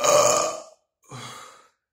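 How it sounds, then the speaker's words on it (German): Two burps after drinking cheap cola: a loud, long first belch followed by a brief pause and a second, somewhat softer one, close to the microphone. "Ich glaube, gleich kündigt sich noch der nächste an."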